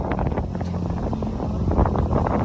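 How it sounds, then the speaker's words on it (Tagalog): Strong wind buffets the microphone at a Manila Bay beach, with waves churning underneath in a continuous rough rumble and a few gusty bursts, no speech. "So malakas ang hangin, alon."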